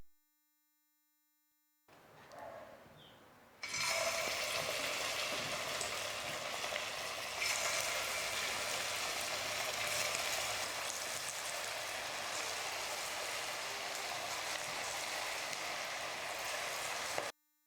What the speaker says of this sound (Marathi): आता हे बॉल्स गरम तेलामध्ये तळून घेऊयात